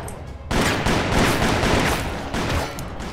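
Gunfire in the Call of Juarez PC game, loud rapid shots crackling in a dense volley that erupts abruptly and continues for a few seconds, with no talking.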